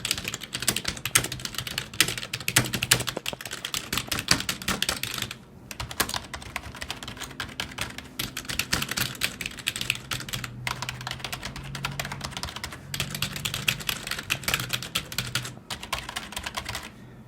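Fast, continuous clatter of keys typed on a cheap CIT computer keyboard, close and crisp, with a few brief pauses in the run of keystrokes.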